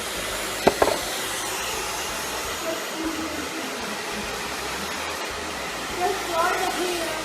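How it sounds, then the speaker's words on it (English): A handheld blow dryer blows over short pixie-cut hair in a salon, a steady close whooshing roar with a couple of sharp knocks near the start and faint speech underneath. "Take your blow dryer and just blow dry it the way you want to blow dry it."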